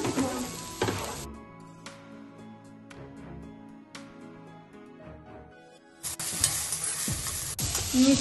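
Bell peppers fry in a pan for homemade noodles, giving a loud broadband sizzle at the start and again toward the end. A quieter middle stretch carries scattered stirring clinks and scrapes, with no voices.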